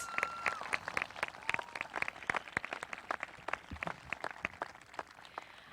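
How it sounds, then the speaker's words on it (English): Applause at the 2015 Windsor Locks High School graduation ceremony: sparse, scattered hand claps from a modest crowd, fairly quiet and somewhat distant, with a few voices murmuring beneath. "give them a round of applause, please"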